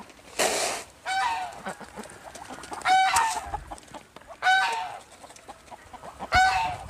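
Chickens on a Vietnamese farm being fed rice and corn cluck and squawk in several loud bursts close by, with ducks and geese nearby and no talk during the calls.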